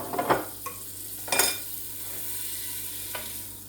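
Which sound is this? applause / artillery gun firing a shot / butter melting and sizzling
butter melting and sizzling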